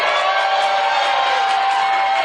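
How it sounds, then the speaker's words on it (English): Live convention audience at Dragon Con cheering and applauding as two guests are brought to the stage, a dense, loud, steady wall of crowd noise with whoops throughout. "bring to the stage the two stars of We Got This with the biggest, most raucous round of applause you can muster"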